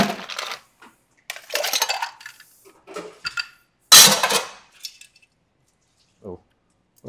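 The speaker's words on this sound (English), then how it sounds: "we're gonna take some ice and just give it a good stir." Ice cubes clink and rattle in a cocktail glass, loose scattered knocks with one sharp clatter near the middle and brief gaps of silence between bursts.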